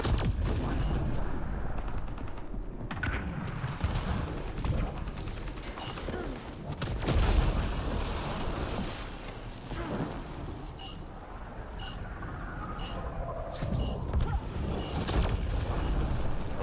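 Dense battlefield noise in Mass Effect Andromeda multiplayer: a continuous rumble of gunfire and explosions, with bursts of sharper shots near the end, loud and sustained throughout.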